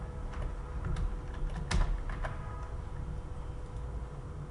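Keys tapped on a computer keyboard while entering a number in an Excel spreadsheet: a few soft, scattered clicks over a faint steady background hum, with one slightly louder press near the middle.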